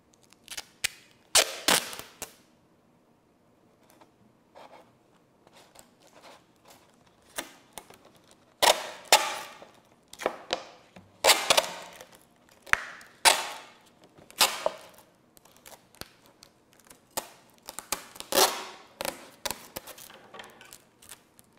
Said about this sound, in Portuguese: Vou colocar aqui uma fita isolante,